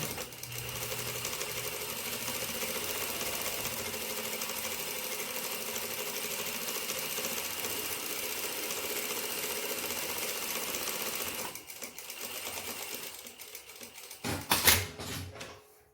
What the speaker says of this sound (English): We're going to run our next line of stitch, 5 millimeters wide as well.